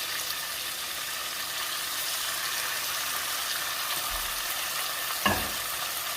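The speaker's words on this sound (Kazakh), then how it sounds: "Жуанын да жақсылап қуырамын." Onions frying in a pot for pilaf, a steady moderate sizzle throughout with a couple of soft knocks of a utensil near the end.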